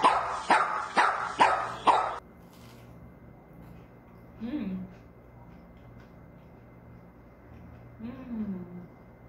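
A dog barks several times in quick succession, loud and close, then falls quiet; a couple of faint whimpers follow over low background noise.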